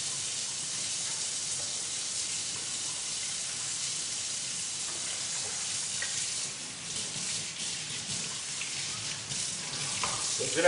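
Scoop and gravity bin parts are rinsed under a running sink tap, a steady hiss of flowing water with faint splashes and clatter as the parts are handled, fairly close.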